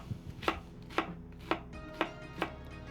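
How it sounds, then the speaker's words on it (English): A knife chops a peeled yellow onion into cubes on a cutting board: five crisp, evenly spaced thuds, close and fairly quiet, with no voice over them. "Got that onion's jacket off. Gonna cut these into cubes as well."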